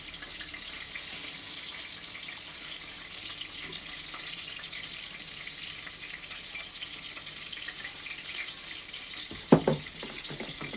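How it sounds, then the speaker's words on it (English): Steady, hissing sizzle of chicken and chips frying in hot oil, continuous and fairly close, with a few sharp clatters near the end. "So I know you guys are wondering what is that frying sound."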